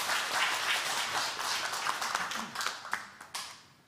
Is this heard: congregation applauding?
yes